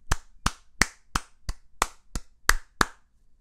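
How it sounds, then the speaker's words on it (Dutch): Nine separate, evenly spaced claps ring out alone and close, a short round of applause from one person while a Super Mario Maker 2 level is being praised. "Jij krijgt gewoon een applaus."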